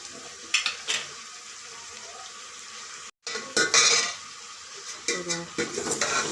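Cut medium-sized potatoes drop into a pot of eggplant sambar, giving a few clattering thuds and stirring scrapes over a steady sizzle, with someone talking in between.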